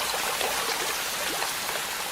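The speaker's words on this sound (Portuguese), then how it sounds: "As chuvas transformam a floresta amazônica e muitos de seus rios." Heavy rain and swollen rivers in the Amazon rainforest give a steady, full hiss of rushing water and falling drops, continuous and even throughout.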